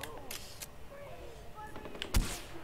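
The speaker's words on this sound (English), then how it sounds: "What are you shooting at?" Gunfire in the video game Far Cry 4: a few sharp, brief shot bursts ring out amid busy game sounds, with one louder crack near the end.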